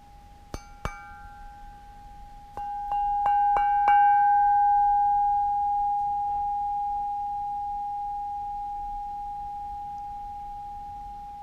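A struck steel hewing axe rings like a bell: a few faint taps, then a cluster of clear strikes that set up a pure sustained tone, which hangs on for several seconds and slowly fades over a quiet background.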